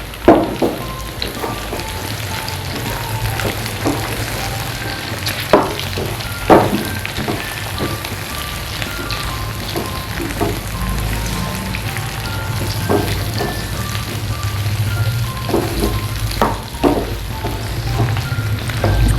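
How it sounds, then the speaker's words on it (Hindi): Chicken jalfrezi with capsicum, onion and tomato fries in a pan, a steady close sizzle with scattered pops and spatters and occasional stirring scrapes, no voices. "इसको हम मजीद 1 मिनट तक फ्राई करेंगे।"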